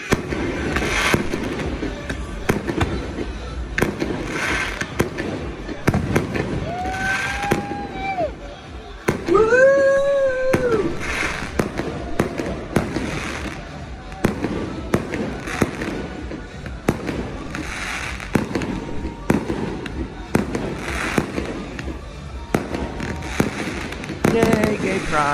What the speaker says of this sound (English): Let's enjoy some Puerto Vallarta fireworks together.